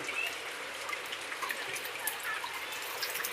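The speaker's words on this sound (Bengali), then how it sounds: "এইরকমভাবে ঝিপঝিপ করে বৃষ্টি হতেই আছে" Light, steady drizzle falls outdoors on an afternoon among green trees, a soft, faint, even patter of raindrops with no voices over it.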